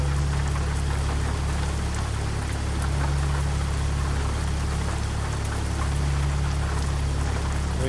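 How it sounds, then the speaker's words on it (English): Steady rain in American Truck Simulator, falling on a Peterbilt truck cab, forms a dense, continuous wash of droplets over a low engine rumble, with no speech. "Welcome back to a rainy episode of American Truck Simulator"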